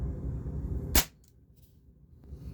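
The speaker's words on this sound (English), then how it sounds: "All right, last shot." A single sharp crack of a pump air rifle firing an H&N Baracuda Green pellet, followed by quiet room tone and a faint later tick.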